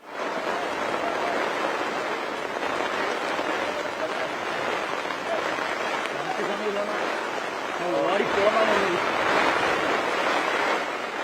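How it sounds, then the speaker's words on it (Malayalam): Steady, dense roar of heavy rain pouring down, unbroken throughout and swelling louder near the end. "മഴ തിമിർത്തു പെയ്തു"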